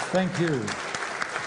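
Conference audience applauding at the close of a TechHR 2018 talk, broadband clapping rising right after a brief spoken thanks and continuing steadily to the end.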